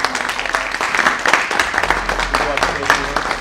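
An audience gives a county clerk a round of applause during an agriculture commissioner's visit in Grayson County, Kentucky, with brief scattered clapping mixed with voices.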